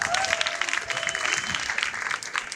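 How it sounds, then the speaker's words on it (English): An audience at a poetry and spoken word evening bursts into dense, sustained applause that holds steady before tapering slightly near the end, filling the room with no voices over it. "Give them a round of applause."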